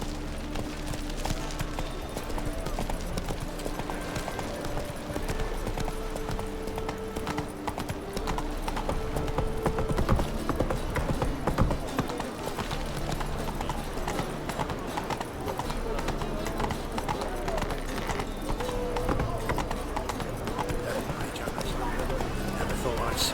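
Roach the horse gallops in The Witcher 3 with steady, rhythmic hoofbeats, heard together with game music and combat effects while a voice speaks over it.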